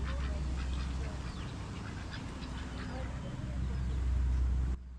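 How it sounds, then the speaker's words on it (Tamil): Ducks quack at a lakeside spot in the Jawadhu Hills, with short, scattered calls sounding through steady outdoor rumble and wind, moderately close, and no talking. "அப்படியே வாத்து நிறைய இருக்கு"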